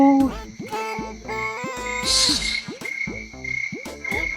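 A jiji buka frog calls very close by, giving a quick run of loud, repeated croaks with a faint voice in the background.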